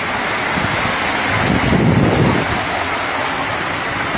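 Overflowing Melen river rushing through a flooded neighborhood, a loud, continuous roar of fast-moving water with a brief swell in the middle.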